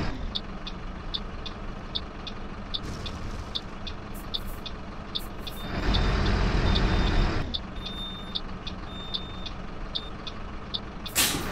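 A city bus reversing at the end of its line in Proton Bus Simulator gives off rapid, evenly spaced warning beeps over a low idling engine, with a louder burst of hissing air brake partway through.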